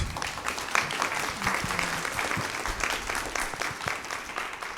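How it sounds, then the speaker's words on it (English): Audience applause fills the room after a history lecture-style discussion program, a steady wash of many hands clapping at moderate volume throughout, with no speech over it. "Let's just give them a round of applause."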